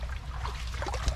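Irrigation water trickles and dribbles across a farm field in a steady, close liquid flow with a brief louder splash near the end, no talking.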